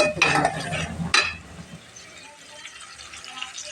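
Dried fish being stir-fried with spices in a pot over a hot stove, giving two short bursts of scraping and sizzling near 0.2 and 1.1 seconds, then a quieter steady hiss of frying.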